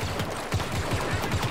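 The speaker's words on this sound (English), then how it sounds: "Are they actually shooting at stuff?" Rapid repeated gunfire in the video game Star Wars Battlefront 2, a dense burst of blaster shots pulsing several times a second, loud and continuous.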